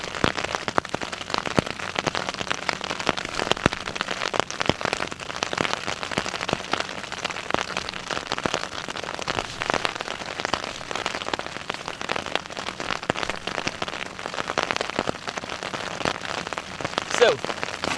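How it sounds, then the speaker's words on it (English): Steady rain patters densely on a shelter overhead, a constant close hiss with scattered sharper drops. "Some problems with the rain getting in my shelter."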